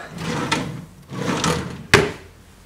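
A wooden drawer in a chest of drawers in an Islington apartment slides open and shut twice in a row with scraping runs, then a sharp knock as it closes, close and alone.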